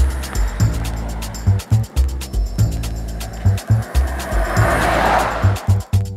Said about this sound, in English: you can always hear the engine in the background.